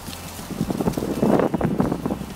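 Wind blows across an outdoor metal-detecting site in Quebec, a steady rough buffeting against the microphone with gusting swells and rustling, fairly close and loud, with no voices.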